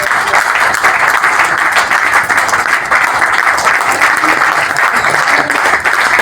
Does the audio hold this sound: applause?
yes